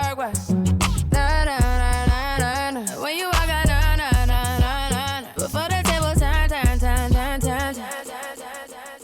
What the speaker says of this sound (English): you'll hear the echo is twice as fast